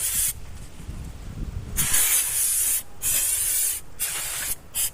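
Aerosol brake cleaner sprayed onto the brake parts of a 2010 Toyota Corolla during a pad change, in several close, loud hissing bursts separated by short pauses.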